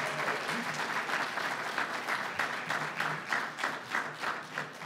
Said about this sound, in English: let's have another round of applause for all of today's featured speakers